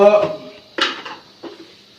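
A spoon stirring dal in a metal cooking pot, producing two distinct clanks and scrapes against the pot. Someone speaks briefly at the start.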